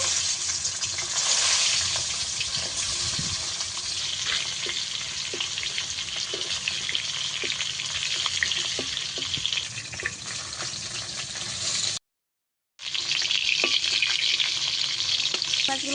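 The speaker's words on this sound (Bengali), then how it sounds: "একইভাবে বাসি মাছগুলো ভেজে নেব" Fish frying in hot oil crackles and sizzles loudly and continuously, with occasional stirring, broken by a brief cut to silence before the frying resumes.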